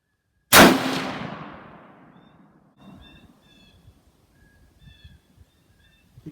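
A single sharp, loud crack from a 6.5 Creedmoor rifle firing a 140-grain BTHP load, followed by a long decaying echo and faint outdoor ambience with scattered birdsong.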